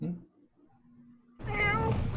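A house cat asking to be let outside gives a clear, drawn-out meow close by after a brief hush, with a faint low hum before it and a person speaking nearby.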